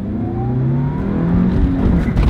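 A used sports car pulling away from a standstill, engine note climbing steadily and growing louder and rougher toward the end, heard close up with no talk.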